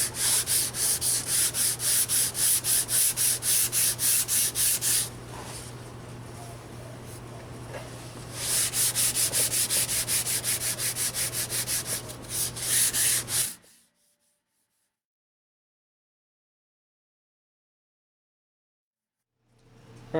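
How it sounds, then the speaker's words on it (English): Honda Accord body repair pieces get sanded by hand in rapid back-and-forth strokes, a close, rhythmic rasping in two long bursts with a pause between, then quiet. "got all those pieces sanded down"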